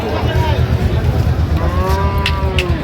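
A Sahiwal-breed bull at a cattle market gives a long, drawn-out moo, loud and near, with a second lower call rising and falling after it over a busy background rumble.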